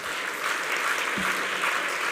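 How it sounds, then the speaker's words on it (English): An audience applauds a speaker at a talk in London, a steady, moderately loud wash of many hands clapping throughout with no talking over it. "Yes, it deserves a round of applause."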